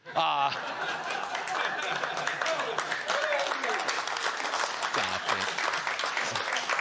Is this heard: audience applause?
yes